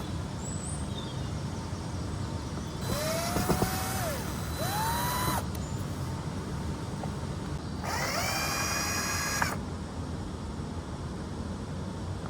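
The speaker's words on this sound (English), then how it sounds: "I've got my drill ready to go, and we're gonna take this apart" A power drill dismantles a storm-damaged wooden structure outdoors at a 200-year-old Irish cottage, with two separate bursts of rising motor whine over steady background noise.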